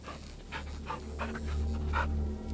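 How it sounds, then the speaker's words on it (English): Bullet the dog pants in the Blair Witch video game, a close run of quick, rhythmic breaths over a low ambient hum. "Good dog."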